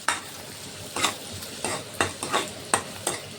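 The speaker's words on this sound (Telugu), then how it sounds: "ఆనియన్ బ్రౌన్ కలర్ వచ్చేంత వరకు ఫ్రై చేసుకోవాలి" Onions fry in a pan for paneer butter masala, a soft sizzle beneath repeated scraping strokes of a spatula or spoon stirring them, about eight sharp stirs at uneven intervals, close and clear with no talk.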